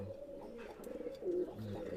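Teddy 128 pigeons give soft, low coos in a short, repeated rhythm, fairly quiet and close, with no voices over them.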